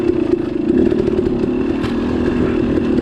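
A dirt bike engine drones steadily and loudly on a forest trail in Gifford Pinchot National Forest, a continuous close motor hum with slight rises and falls in pitch and no voices.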